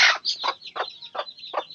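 A hen with her small chicks on a Bangladeshi homestead gives a run of five short, close clucks in a steady rhythm, each paired with high thin chirping above, with no talk.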